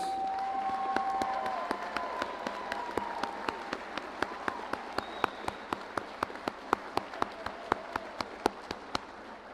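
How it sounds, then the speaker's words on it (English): Steady applause from a crowd at a Palo Alto College 2021 commencement ceremony, with many sharp claps standing out over a dense, continuous wash of clapping and a faint tone early on. "Another round of applause."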